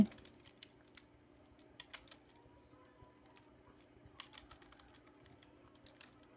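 Light keystrokes on a computer keyboard as a short title is typed, scattered soft clicks in irregular bursts over a faint steady hum, fairly quiet and close.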